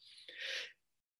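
A single quick, faint sneeze, a short breathy burst that cuts off abruptly into silence, heard indoors during a lecture.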